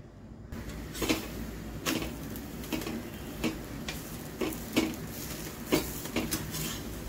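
A paratha roasts in oil on a hot tawa griddle, giving a steady low sizzling hiss broken by sharp, irregular metallic taps and scrapes of a spatula, close and moderately loud, with no talking.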